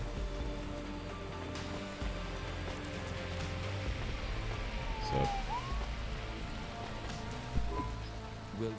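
Steady rain patters in the Cloudpunk video game world, a soft continuous hiss over low ambient hum, with a distant siren-like tone sweeping briefly through the middle.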